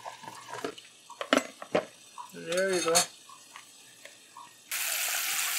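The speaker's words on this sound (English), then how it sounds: "I'm gonna pour some cold water over these, cool them off rapidly." Cold tap water pours over freshly boiled eggs in a kitchen, a steady rushing hiss that starts near the end after clinks, rustling and brief talk.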